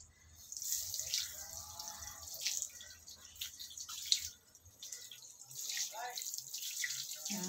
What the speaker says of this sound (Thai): เรามาล้างดูกันนะคะ